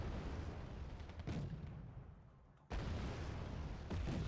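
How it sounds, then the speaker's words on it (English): Artillery fire booms in the real-time strategy game Wargame: Red Dragon, with heavy rumbling blasts at close range and a fresh loud impact striking midway before the rumble rolls on. "it looks like artillery to me"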